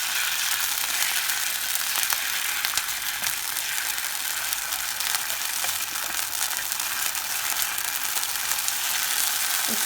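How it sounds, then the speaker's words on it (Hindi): Garlic ginger paste sizzling in a hot pan, a steady bright frying hiss that carries on evenly throughout, close and fairly loud, with faint scrapes and clicks mixed in. "हल्का से इसको फ्राई करेंगे।"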